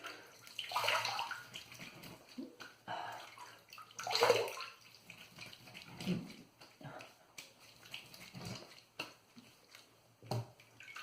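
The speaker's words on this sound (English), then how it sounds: "Let me rinse it off and then go for a cleanup." A Razorock GC68 safety razor rinsed under a running tap during a wet shave, with soft irregular splashing and trickling close by.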